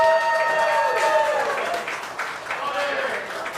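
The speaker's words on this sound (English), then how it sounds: "Let's get a round of applause for Chef Bobby." An audience at the Canadian Culinary Championship 2023 black box cooking competition applauds briefly for a chef team; the clapping fills the background under a voice and tones before fading slightly.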